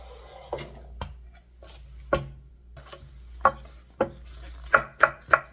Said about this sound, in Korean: 대파 한 뿌리 송송 썰어서 넣을 거예요